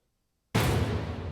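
Silence broken by a sudden heavy hit from a Native Instruments Rise and Hit plugin, a sharp booming impact followed by a dense, rumbling decay.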